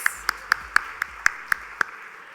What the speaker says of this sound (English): keep those claps coming for SAP Labs India